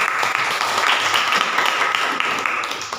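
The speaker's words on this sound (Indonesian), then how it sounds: "Berikan aplaus untuk kelompok 3." Audience applause after a group presentation at an Indonesian school event, a dense burst of clapping that holds steady for a few seconds and then starts to fade.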